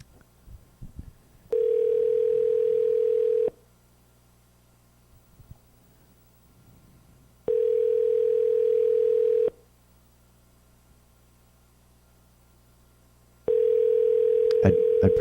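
Ringback tone on an outgoing phone call: three steady two-second tones about six seconds apart, with quiet line noise between them.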